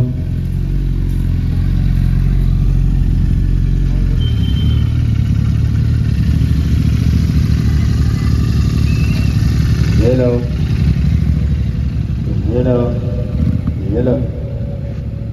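Several superbikes idling in a parked lineup at a tourism day bike meet, a Bajaj Dominar and a Suzuki Hayabusa among them, giving a steady loud low rumble with occasional revs, while people talk over it.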